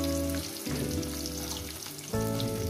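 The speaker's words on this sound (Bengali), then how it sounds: "মিনিমাম 3-4 মিনিট আমি পেঁয়াজটাকে ভেজে নেব।" Chopped onions frying in a pan for chicken kosha give a steady, loud, close sizzle that hisses on without a break, swelling slightly near the end.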